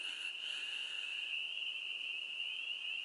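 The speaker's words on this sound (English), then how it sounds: "listen to the frogs." Frogs call during mating season at night outside a patio, a steady high trilling chorus held alone and fairly faint throughout with no voices.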